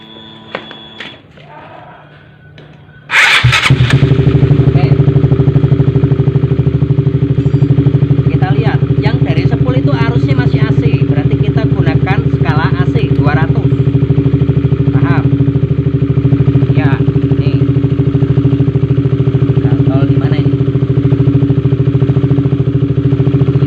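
A Honda CB150R motorcycle with a battery fault being started after a short quiet stretch with some clatter, then the engine idling loudly and steadily up close, with some higher mechanical noise over the running engine.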